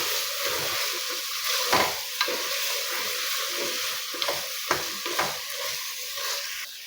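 Soaked, squeezed soya chunks are stirred into vegetables frying in a pan, producing a continuous sizzle broken by several distinct scraping stirs and light knocks, close and fairly loud.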